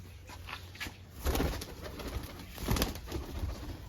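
A pair of pigeons coo nearby in soft, low, rolling calls, two swelling phrases over a faint steady background hum.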